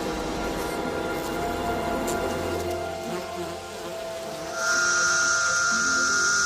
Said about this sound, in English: This is the sound of cicadas in eastern North America.